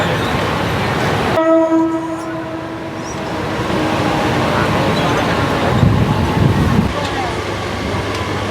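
A Mumbai local train on the Panvel–CSMT line rushes past close by, loud and rumbling, with a horn blast early on and wind buffeting throughout.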